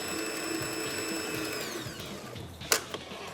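Electric hand mixer whirring steadily on its lowest speed setting through chocolate cupcake batter with vanilla essence, a constant close mechanical drone with a couple of sharp clicks near the end, no talk.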